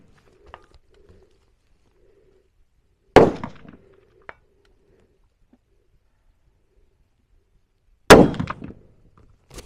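Two sharp, loud rifle shots from a Weatherby Mark V or Tikka T3x crack out several seconds apart, each ringing briefly, with faint cooing pigeons and a small clank in the quiet between.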